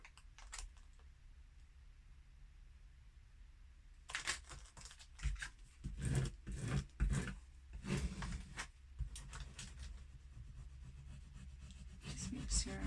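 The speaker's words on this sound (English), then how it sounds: "Just make sure I rub it all down so that it sticks nice." Transfer tape rubbed down onto a wooden carrot shelf decoration, bursts of scratchy rubbing strokes in uneven clusters after a quiet start, close and fairly faint.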